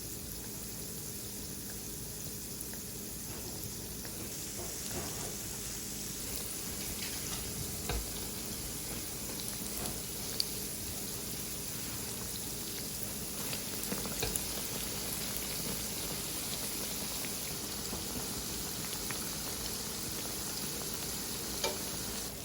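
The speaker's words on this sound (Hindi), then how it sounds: "अब इसका इंतज़ार करते हैं कि ये फ्राई हो जाए।" Lentil fritters for dahi bhalla deep fry in hot oil, a steady, fairly quiet bubbling sizzle that runs on unbroken with only faint occasional clicks.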